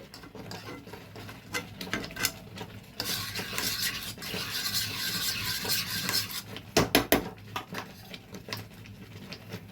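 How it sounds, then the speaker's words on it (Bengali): A spoon stirs mango sandesh mixture in a cooking pan, making irregular scraping and patting sounds that grow busier and louder midway, with a few sharp knocks near the end. "দিয়ে এবার এটাকে ভালো করে পাক দিয়ে নেব"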